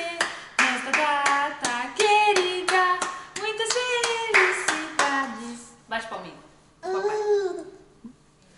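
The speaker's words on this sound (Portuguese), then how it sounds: "Bate palminha!" Rhythmic hand clapping at a birthday celebration keeps time beneath a lively, singsong voice, the sharp claps recurring in quick bursts between vocal phrases.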